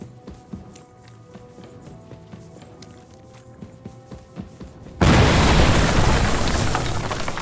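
After a few seconds of quiet footsteps and faint scuffling, a sudden loud explosion erupts and its roar stays loud before slowly fading.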